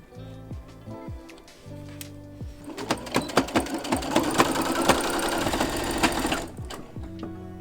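Sewing machine stitching fabric for an upcycled skirt, starting and stopping in short bursts before a steady, loud run of rapid needle clatter.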